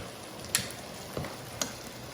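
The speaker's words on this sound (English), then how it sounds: "I just take some butter flakes and I put it around the pan here" Butter flakes sizzle around a rösti in a frying pan, a steady soft crackle with a few brief louder pops and clicks, no voices.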